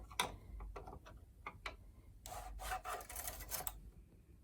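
A flathead screwdriver pushing the sponge bar through a knitting machine's needle bed: a few sharp metallic ticks, then a longer scraping, rasping slide of the bar, close and fairly quiet.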